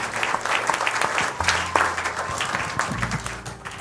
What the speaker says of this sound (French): Let us Amen. give the Lord a hand.